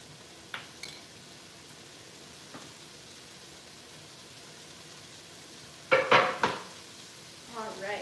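Onions cook in a pot for a vegan Irish stew under a faint, steady sizzle, broken by a few light clinks of a utensil and a louder burst of pot-and-pan clatter near the end.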